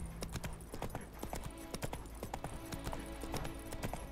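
Roach, a horse in The Witcher 3 video game, clip-clops along in a steady, rhythmic run of near, moderately loud hoofbeats under game music.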